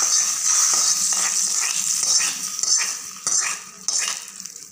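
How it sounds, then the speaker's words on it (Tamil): A tempering of chili and asafoetida is poured into boiling thuthuvalai rasam, with repeated metallic clanks of pot and ladle over a hissing, sizzling bed of sound, close and fairly loud. "இப்போ வந்து இதை எடுத்து ரசத்தில் கொட்டிக்கலாங்க"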